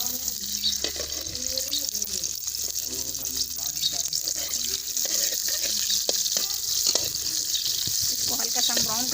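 Chopped onion fries in hot ghee with a constant close sizzle and occasional stirring scrapes while a person talks over the cooking.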